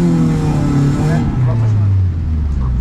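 A drift car's engine held on the throttle near the rev limiter at a drift event, producing a loud, close, droning roar with shifting pitch that drops partway through, while a person talks over it.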